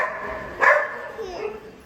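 A dog gives a single sharp bark at a busy behind-the-scenes shoot, heard over background chatter and voices nearby.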